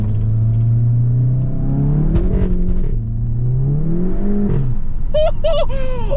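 A high-mileage VW Golf GTI accelerates hard on a track, its engine rumbling and revving with rising pitch while the car shudders through wheel hop; the engine is loud and close, with brief excited voices near the end.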